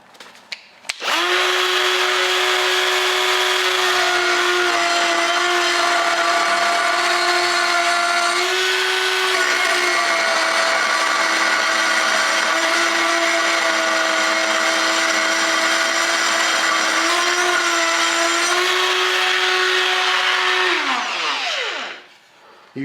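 Carbide burr spinning in a power tool while grinding out a weld, a loud steady high-pitched whine held for about twenty seconds, then spinning down at the end, with no talking.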